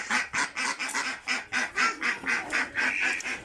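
Egg-laying ducks quack in a rapid, loud, rhythmic series of calls close by, with no talking over them.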